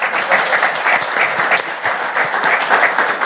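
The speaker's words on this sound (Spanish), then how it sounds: "el primer aplauso de la tarde quiero que sea, por favor, para todos vosotros" A studio audience on a health talk show applauds loudly and continuously, a thick, even roar of many hands clapping together with no talking over it.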